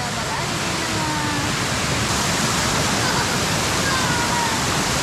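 Waterfall at Meethirigala roaring close by, a loud, unbroken wash of falling water that stays constant throughout, with no distinct voices standing out.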